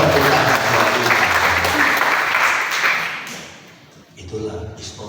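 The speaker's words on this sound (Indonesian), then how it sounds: "Kita berikan tepuk tangan buat Tuhan." A church congregation applauds after a preacher's call to give thanks, a loud, dense clapping that fills the room for about three seconds, then fades and tails off into a few scattered claps.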